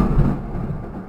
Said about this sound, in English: it's just lightning